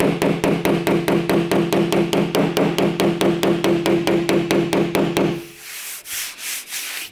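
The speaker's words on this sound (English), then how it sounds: "Lewis is just using this panel hammer to knock." Quick, steady blows from a panel hammer tap out a dent in the bodywork of a Talbot Sunbeam Lotus, ringing sharply and close for about five seconds before stopping, leaving faint rustling handling noise.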